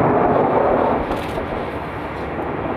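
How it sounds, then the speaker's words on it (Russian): Heavy, continuous rumbling roar of rapid cannon fire from attack helicopters during a Belarus-Russia military exercise, loud and sustained, with no distinct individual shots standing out. "Стрельбой из пушечного вооружения"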